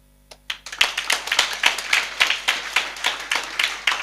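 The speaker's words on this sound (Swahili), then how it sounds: "Ni vizuri mmepiga makofi." A church congregation at a Sunday evening service claps in a quick, irregular burst, starting with a few scattered claps and swelling into dense, fairly close applause that carries on steadily to the end.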